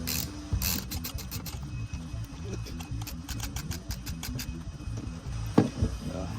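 Up close, a ratcheting wrench clicks in rapid bursts while tightening a plastic fuel pump fitting on a 2017 Subaru WRX STI, with a couple of louder knocks near the end.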